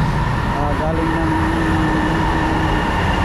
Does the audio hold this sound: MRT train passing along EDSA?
yes